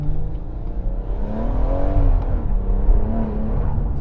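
A BMW M140i engine pulls hard under acceleration, a rising, moderately loud drone with a slight dip and climb as it winds up, heard from inside with no voices.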